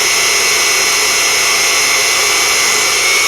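A Unimat SL1000 mini lathe turns 7075 aluminum, giving a loud, steady broadband whine and hiss from motor and cutting that runs unbroken throughout, with no talking.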